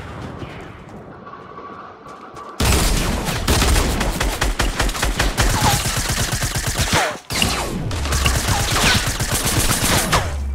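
Gunfire in a video game shootout, with rapid bursts of automatic fire that pound continuously and loudly, broken by a short pause and then more sustained firing and no voices.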